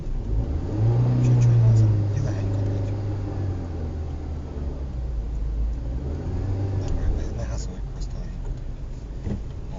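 A manual-transmission car driven with gears shifted without using the clutch; the engine rumbles and revs up and down steadily, fairly close, while low voices murmur in the background.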